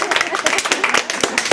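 Wedding guests at a banquet clap together in a dense, steady patter, close and fairly loud, with voices mixed into the applause.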